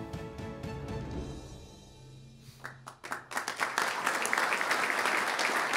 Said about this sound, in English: The round of applause is for Minkah Fitzpatrick